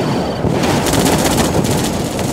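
Sustained loud gunfire from units opening fire in Red Alert 2: Yuri's Revenge, a dense continuous rattle of shots with no pauses, close and filling the full span.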